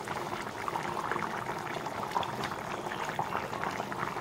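Potato, cauliflower and rohu fish curry being served gives a continuous wet bubbling and liquid sloshing, close and steady throughout with no talking.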